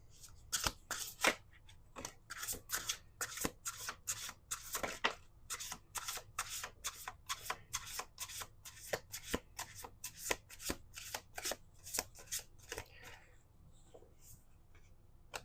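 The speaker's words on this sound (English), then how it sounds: "Two more shuffles." Tarot cards being shuffled up close, a rapid run of crisp riffling flicks and snaps that continues steadily for the whole stretch, quieting briefly near the end before a final burst; no talking.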